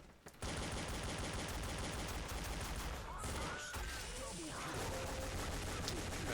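Rapid automatic gunfire in the first-person shooter Counter-Strike Online 2 on the Ice World map, with a dense, continuous burst of shots running nearly throughout and a brief dip midway.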